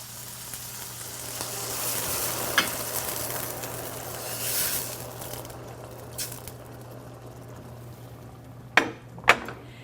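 Vegetable broth hits a hot pan, setting off a sustained close hiss and bubbling sizzle that swells then eases, with two sharp utensil clacks near the end.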